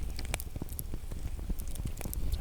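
Sausages fry over a campfire in a damp forest, with steady crackling and sharp pops from the fire and sizzling close by, at moderate level with no talk.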